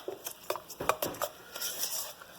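A utensil stirring strawberries and cream in a bowl, making quiet scraping and clinking taps against the dish in short, irregular bursts, faint and close.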